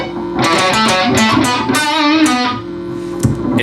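Dry electric guitar solo with no added reverb, only a small room's natural echo: a run of fast, bright, distorted notes, loud and close, with a brief gap near the end before a final struck note.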